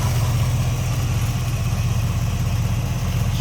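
A 1946 Ford Deluxe Coupe street rod with a 350 V8 and turbo 350 automatic idles smoothly, giving a steady, even low rumble that stays loud and close for the whole stretch, with no talk over it.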